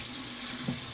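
Cold water runs from a tap into a frozen shaving scuttle, a steady, close hiss with no voices and one brief swell near the end.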